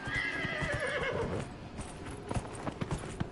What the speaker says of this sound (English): I hate this horse.